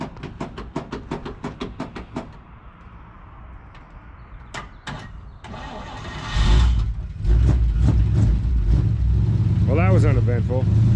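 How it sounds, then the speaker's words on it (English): A 1955 Chevrolet Bel Air sedan survivor with overdrive gets a cold start: a rapid series of sharp clicks and cranking bursts, then the engine catches into a loud, steady low idle, with voices talking over it near the end. "Cold start about a car we don't know."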